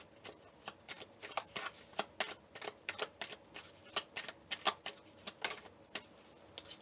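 Tarot message cards are shuffled and handled close by, with a quick run of crisp riffling snaps and soft slides, fairly quiet and with no speech.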